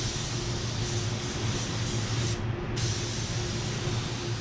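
A spray gun lays down a coat of PPG white pearl automotive base paint in a steady close hiss that runs for the whole stretch with a short dip near the middle.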